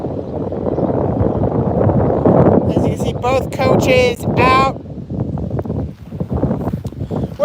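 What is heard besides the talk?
strong wind blowing at a baseball field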